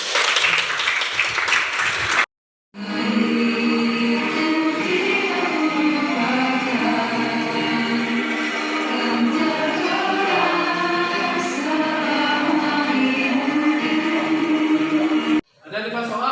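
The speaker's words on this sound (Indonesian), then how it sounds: "Tepuk tangan dulu." A classroom of students applauds together on cue, a dense sustained burst of clapping lasting over ten seconds after a short pause, loud and close throughout with some voices mixed in.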